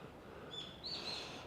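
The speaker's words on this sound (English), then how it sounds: "crows are like crazy everywhere." Crows call faintly in the distance on a street in Ikebukuro, Japan, with a few short, high cries over a steady outdoor hum.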